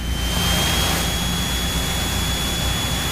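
A Cessna 172 piston engine holds a steady run-up at 1800 rpm, a loud continuous droning roar heard from inside the cabin with no other sounds.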